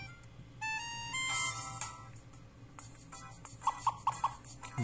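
An electronic phone ringtone from the video game Comic Party plays in short tonal chirps and rising beeps, followed by a few evenly spaced bright blips, fairly quiet and without talk.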